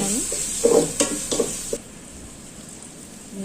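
Ginger garlic paste sautéing for chicken kondattam, with a few sharp spoon-against-pan stirring clacks over a soft sizzle that settles into a quiet steady fry.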